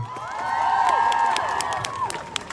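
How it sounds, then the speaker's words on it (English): A crowd at an outdoor protest for Palestine claps and cheers to welcome a speaker, with a swell of whoops and shouts rising loud, then tailing off into scattered claps and calls. "Give her a round of applause, everybody."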